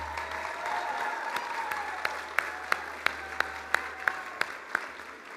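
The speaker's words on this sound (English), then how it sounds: "let's give them a round of applause" An audience at an alumni awards ceremony claps steadily, a dense wash of applause with a few sharp nearby hand claps standing out, sustained throughout.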